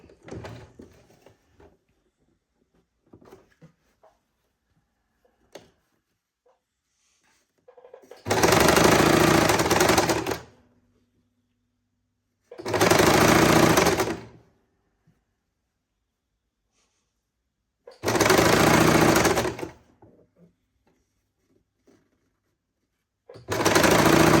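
A sewing machine stitches a sleeve in four separate loud whirring runs of about two seconds each, separated by quiet pauses with faint handling clicks.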